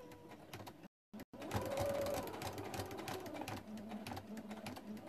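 A sewing machine stitches a circle appliqué with a steady, fast mechanical whir close up, broken by a brief stop near the start before running on evenly.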